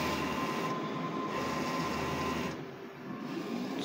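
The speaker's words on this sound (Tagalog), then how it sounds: "Ayan, ayan yung printer natin. Nozzle test lang natin." An inkjet printer with a DX11 print head runs a nozzle test, giving a continuous faint mechanical whir and hum with slight shifts as the carriage moves, with no talking.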